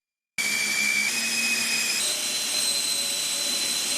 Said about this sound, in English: the wind itself was made by 4 strong 90mm EDFs